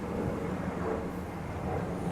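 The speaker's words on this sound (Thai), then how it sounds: "ไม่เห็นหรอกเนาะได้ยินเสียงเครื่องบินอยู่" Airplane passing over farmland near an airport, a steady low broadband roar that holds at an even level throughout with no voices.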